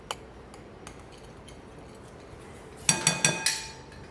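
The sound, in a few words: mixing lemon dressing in a bowl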